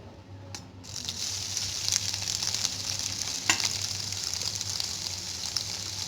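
Finely chopped onions sizzle in a hot pan for a potato curry, a steady, close crackling hiss that runs throughout, with a few faint clinks of a utensil.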